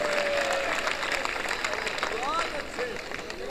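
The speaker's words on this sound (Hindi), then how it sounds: "सारे मिलकर ताली बजा दो तो मैं शुरू हो जाऊंगा।" A live audience at a Hindi patriotic poetry recital claps together in a dense, steady burst that fills the whole stretch, with some crowd murmur mixed in.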